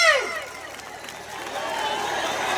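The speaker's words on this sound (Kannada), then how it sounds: "ಬನ್ನಿ ನಮ್ಮ ಲೇಡೀಸ್ ಜೋರಾಗಿ ಚಪ್ಪಾಳೆ" Women in the audience at a live Kannada comedy stage show clap loudly. A voice is heard briefly at the start, then a broad wash of applause swells and holds steady through the second half.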